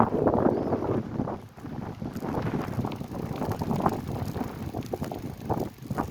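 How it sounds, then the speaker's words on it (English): Strong wind blows in on Fort Myers Beach, Florida, buffeting the microphone with a loud, gusty rush during a bicycle ride near high tide, with faint mechanical rattles underneath and no talking. "And I can feel that wind blowing right in."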